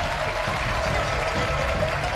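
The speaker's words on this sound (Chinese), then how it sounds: "掌声送给两位。" An audience in a Chinese crosstalk comedy competition hall applauds the performers with steady, dense clapping at moderate volume, uninterrupted throughout.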